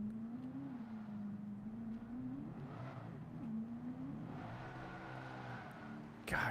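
Le Mans race car engine in a racing video game, driving in the rain, a moderate droning engine note that dips and rises as it revs, with a sharp louder burst at the very end.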